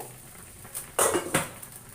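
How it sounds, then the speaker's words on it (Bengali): A metal lid is lifted off a pot of simmering bean and potato curry, giving a couple of close clanks and scrapes against the rim in a quiet kitchen. "এবার ঢাকনা উঠিয়ে দেখব।"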